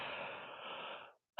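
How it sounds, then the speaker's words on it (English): A single sudden sneeze bursts out loud at the very end, after a stretch of faint breathy, murmuring background during a live abs workout session. "I'm gonna sneeze."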